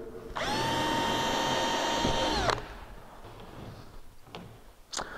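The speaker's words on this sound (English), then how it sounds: "I'm going to drill little holes right in the corners here" A power drill bores small holes in the plywood corners of a workbench backing, whining steadily for about two seconds before spinning down, followed by quiet handling clicks and knocks.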